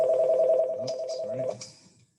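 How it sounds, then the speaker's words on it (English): Telephone lines ring in a council meeting room, a steady electronic trill held for about a second and a half before cutting off, loud and close with faint background murmur. "lines are ringing"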